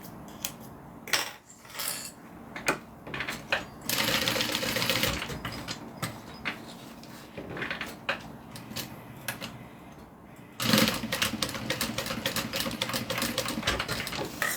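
A sewing machine stitches in bursts of rapid, steady whirring and ticking, close by. Short pauses with scattered clicks fall between the runs.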